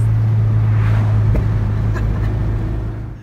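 A tuned Honda car engine drones loudly and steadily during a downshift into fourth gear, with a brief blip partway through before the sound gradually eases off.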